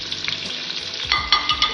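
Pumpkin pieces frying in oil in a kadai, a steady crackling sizzle with a few louder bursts of spattering toward the end, close and unaccompanied by voices.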